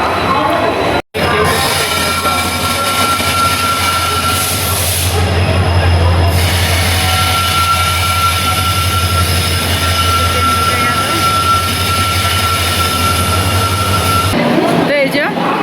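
Train noise at Howrah railway station in India: a steady low rumble of a train and platform bustle runs throughout, with a brief dropout near the start and voices talking in the background.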